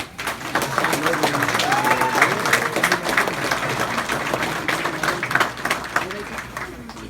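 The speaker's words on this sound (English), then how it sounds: "So if we could give a round of applause for Staff Sergeant Perez." An audience at an infantry Turning Blue ceremony breaks into steady applause, dense and sustained for several seconds, with a few cheers and a voice faintly under the clapping.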